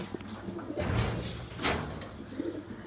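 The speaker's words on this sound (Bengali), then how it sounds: "আমি আজকে বাচ্চাদের আর মায়াদের কিন্তু বাইরে ছাড়ছি সবগুলা কবুতরই" Pigeons released outside a loft coo softly amid faint outdoor noise, with a brief rustle or scrape midway and no speech.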